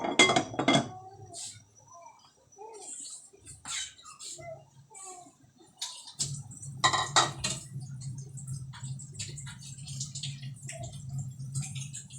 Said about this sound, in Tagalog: Ilalagay ko ang patatas. Ayan. Takpan ulit.